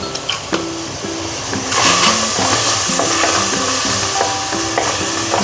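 An oil-free chicken curry with tomatoes is stirred in a pan, giving a steady wet sizzle with repeated scraping stir strokes that grow busier after the first couple of seconds.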